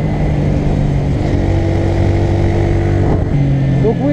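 Engine of a 2016 Honda CBR125R motorcycle holds steady, loud and close, with a sustained drone that climbs in pitch near the end as it revs up, no talk over it.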